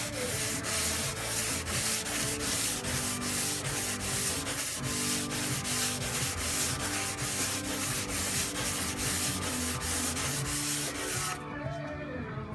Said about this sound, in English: just hand sand this